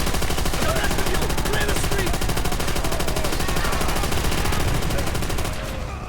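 Rapid sustained automatic gunfire in the video game Call of Duty: World at War, loud and continuous with dense overlapping shots, tailing off slightly at the end.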